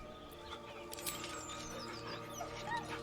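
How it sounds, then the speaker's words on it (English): In the Baldur's Gate 3 video game, a dog whimpers nervously with thin, high whines, faint beneath a steady hum of ambient game sound. "The dog whimpers nervously, as if to urge you on."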